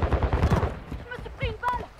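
Gunfire from a sniper-focused shooter video game crackles in the first half, several loud overlapping shots and thuds, followed by quieter clatter and brief electronic tones, with voices talking over much of it.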